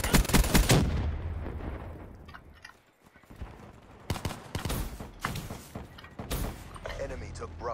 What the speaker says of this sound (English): Taking fire! Hostile sentry!